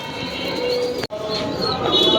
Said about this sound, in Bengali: দেখি মনির ভাইয়ের কাছে এখন বর্তমানে এই বাজারে কি কি কবুতর আছে এবং মনির ভাই কীভাবে এগুলি লালন পালন করতেছে